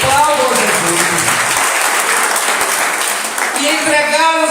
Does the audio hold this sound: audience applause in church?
yes